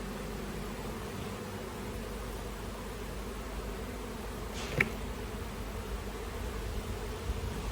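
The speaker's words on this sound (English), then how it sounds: "since there's a lot of bees in the box, I'm not going to put the cover on" A steady, low insect buzz of many honey bees around an open hive hums throughout, with one brief louder rustle or close pass midway.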